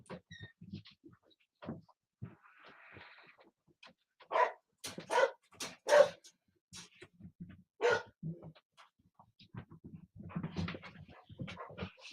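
Indoor house dogs bark in short bursts of several loud woofs, with quieter whimpers and rustling between them and no talk over the barking.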